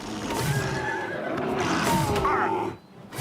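A horse in the video game Oblivion Remastered neighs and whinnies loudly over busy battle noise, with a brief clatter near the end before a short drop in sound.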